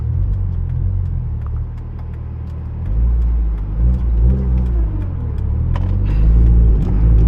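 A BMW E30 M3 V8 engine revs hard, rising in pitch toward a 5,000 RPM limit and dropping back, with a steady rumbling drone and no voices.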